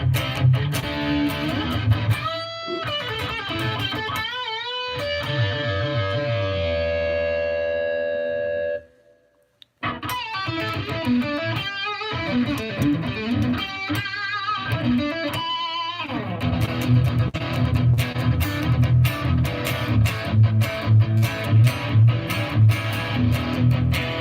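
Electric guitar played through a Headrush rig with a light reverb mix: loud, distorted riffs and a long ringing sustained note, a brief drop to silence, then denser strummed and picked phrases continuing to the end, with no talking.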